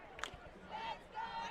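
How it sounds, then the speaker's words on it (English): Rowdy crowd at a high school football game between Arcadia and La Salle, a broad distant cheering wash with swelling roars and a brief sharp shout near the start, no clear speech. "As you can hear, the crowd is very rowdy tonight, supporting Arcadia."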